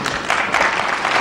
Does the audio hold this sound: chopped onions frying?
no